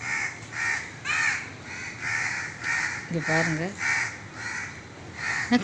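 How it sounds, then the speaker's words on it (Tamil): Crows cawing repeatedly in bursts, near and fairly loud, with a monkey sitting close by; a person speaks briefly partway through. "காக்கா ரொம்ப கத்துதேன்னு பார்த்தேன்"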